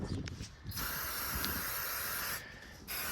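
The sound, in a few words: brake cleaner spray on Jeep clips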